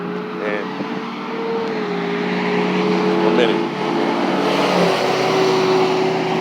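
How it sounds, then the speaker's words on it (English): Outdoor traffic noise of vehicles passing steadily in the distance under gusting wind, a continuous broadband rumble with a sustained engine hum, while someone talks briefly over it. "So you can hear that wind in the background along with these vehicles."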